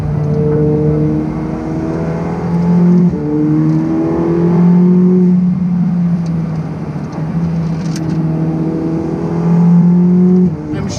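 Ferrari 488 Pista driving on an open road, its engine note steady and smooth with gentle rises and falls in revs, close and continuous throughout with no voices over it.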